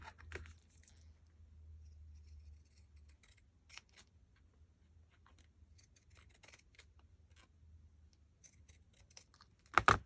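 Scissors snip through lace while trimming a shabby-style journal tag, a scattering of short crisp cuts close by, quiet and unhurried, with a louder clatter at the very end.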